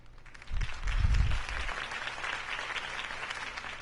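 Crowd applause after a mayoral campaign speech for Harvey Dent, a steady wash of clapping heard at some distance, rising after a low thump and holding on without talk.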